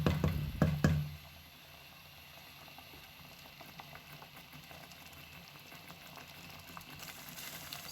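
Egusi soup with fish bubbles and simmers in a pot as it is turned over, a few louder knocks and splashes at the start giving way to a steady low bubbling murmur.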